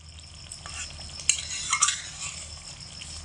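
A spoon gently stirs tomato and potato curry (aloo dum) in a pan, giving soft scraping and a light clink over a faint sizzle, close and brief.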